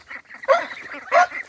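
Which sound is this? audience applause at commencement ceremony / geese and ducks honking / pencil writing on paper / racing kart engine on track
geese and ducks honking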